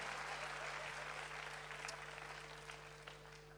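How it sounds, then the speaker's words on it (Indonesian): A church congregation applauds after a sermon, steady dense clapping that fills the space from start to finish and slowly thins toward the end, with a low steady hum underneath. "Beri tepuk tangan yang meriah buat Tuhan."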